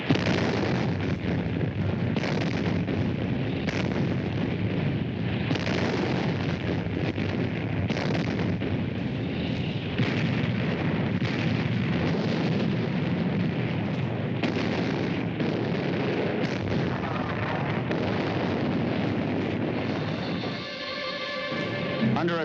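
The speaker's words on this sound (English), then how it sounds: "The Navy guns finally get their chance." Naval guns fire a bombardment during a WWII Italian campaign landing, heard as a dense, continuous roar of blasts and rumbling bursts at steady loudness, with wind noise and no clear talk.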